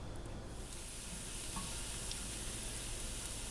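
Ingredient for aioli softening gently in hot oil in a pan, a steady quiet sizzle running throughout without browning, with a brief louder bump at the very end.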